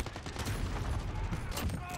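Gunfire and explosions crackle in a Call of Duty match, dense bursts of shots and booms layered together and fairly loud throughout a brief stretch.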